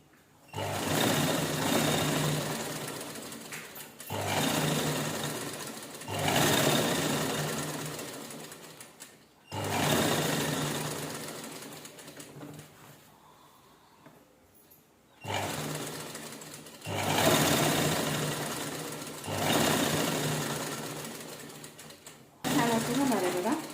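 Sewing machine stitching a saree cover made from leftover blouse pieces, running in repeated bursts of a few seconds each with short pauses between, steady and close, with a voice talking softly at times.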